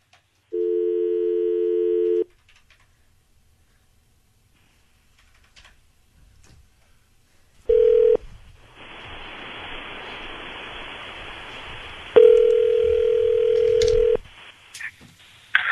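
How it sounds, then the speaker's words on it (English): A landline phone tone sounds at the start, then after a pause a steady dial tone plays under a hiss of line noise and a final held tone as the call is placed, with no voices. "We're dialing him up now."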